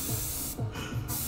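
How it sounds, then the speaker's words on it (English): An airbrush compressor runs nearby, producing a continuous airy hiss with a soft rhythmic low pulsing underneath and brief dips in the hiss. "Oh, the compressor."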